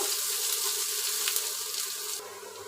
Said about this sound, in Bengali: এখন ফ্রাই প্যানে পেঁয়াজ দিব লাল করে ভাজার জন্য।